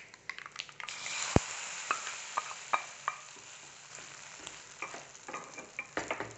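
Hot tempering with curry leaves poured into Onam sadhya kootu curry hisses into a steady sizzle, with sharp crackles and pops scattered through the clip and several louder bursts near the start.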